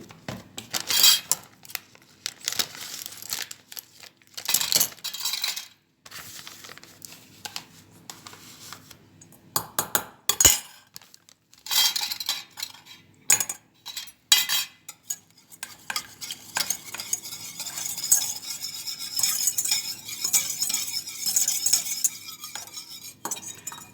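A spoon stirs a cornstarch mixture in a saucepan, scraping and clinking against the pan in uneven bursts separated by short pauses, with a steady patch of continuous stirring toward the end.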